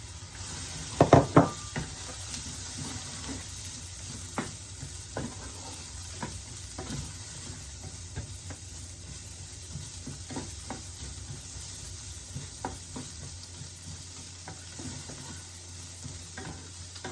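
Red and white onion frying in a pan over medium heat with spices, a steady low sizzle broken by a couple of sharp utensil knocks early on, then quiet scraping stirs.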